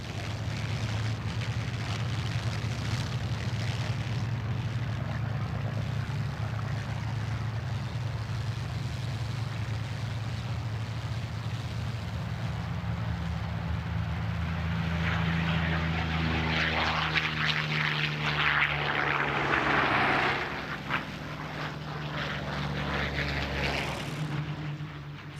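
A Bristol Blenheim twin-engine propeller bomber performing at a 1999 British airshow, its engines giving a loud, sustained droning roar that shifts in pitch as the aircraft passes, with a brief dip in level near the end.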